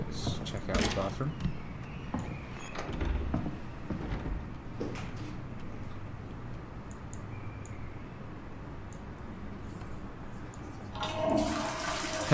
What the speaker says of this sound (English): you can flush the loo